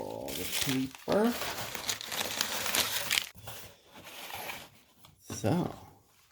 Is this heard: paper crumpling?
yes